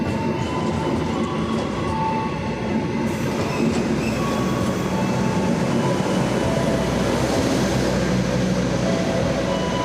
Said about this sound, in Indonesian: Sejak menjadi new generation, kereta gaya baru Malam Selatan keren banget nih